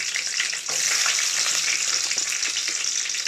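Garlic cloves, fenugreek, cumin and whole peppercorns fry in hot oil, giving a steady close crackling sizzle that runs unbroken throughout, with faint stirring scrapes and no voices.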